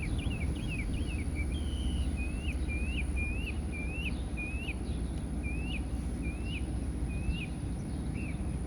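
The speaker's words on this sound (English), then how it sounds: "And listen to the birds." Birds repeat short chirping calls at a steady pace near a beach in Port Aransas, set against a constant loud low rumble of wind or a vehicle, with insects faintly present.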